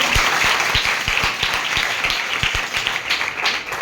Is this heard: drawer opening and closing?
no